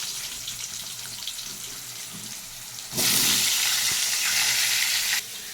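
Cut potatoes dropped into hot oil tempered with whole cumin and a bay leaf for aloo dum, a quiet kitchen hum that bursts into loud, sustained sizzling frying for about two seconds before cutting back down.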